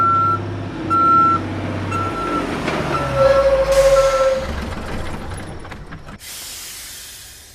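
A large vehicle rumbles up with steady reversing-style beeps and a brake hiss, engine noise swelling then settling, with no voices.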